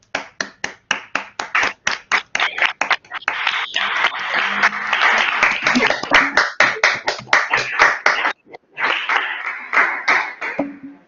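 Seminar audience giving a round of applause, with sharp, separate hand claps in a fast steady rhythm, close and loud, continuing for about eleven seconds with a few brief pauses.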